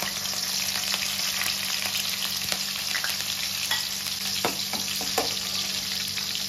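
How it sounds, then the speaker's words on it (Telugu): Chillies fry in oil for a mutton liver pepper fry, giving a steady, close hissing sizzle with occasional small pops and stirring scrapes throughout. "ఫస్ట్ చిల్లీస్ వేసుకుందాము. కొద్దిగా చిల్లీస్ ఫ్రై కావాలా."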